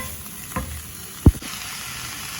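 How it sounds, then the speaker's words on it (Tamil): Garden beetroot leaves and onion stir-fry sizzle steadily in a pan, with two sharp spoon knocks and scrapes standing out against the continuous frying hiss. "சரியா இது எல்லாம் சேர்ற மாதிரி கிளறணும்"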